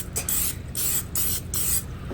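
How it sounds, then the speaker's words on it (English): HEB brand cooking spray is sprayed onto a 3D printed lure mold in four short hissing bursts, close and fairly loud, separated by brief pauses. "we're going to lubricate it with our cooking spray, HEB brand"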